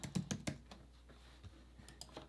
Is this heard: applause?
no